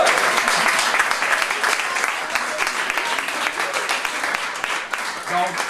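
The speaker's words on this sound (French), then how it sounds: "On les applaudit encore une fois." An audience at a triathlon club awards ceremony applauds steadily and loudly for several seconds, with a dense, continuous patter of many hands close by.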